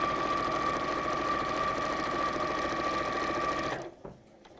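A sewing machine stitches a straight seam in one steady, continuous whirring run, close and loud, then stops abruptly near the end.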